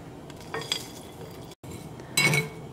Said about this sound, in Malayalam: ഇതേപോലെ നിങ്ങളിങ്ങനെ ഇളക്കി കൊടുത്തോണ്ടിരിക്കണം